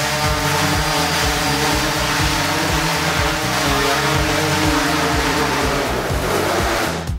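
An Aerobo drone descends to land with its landing gear lowered, its rotors holding a steady, loud, droning whine from start to finish.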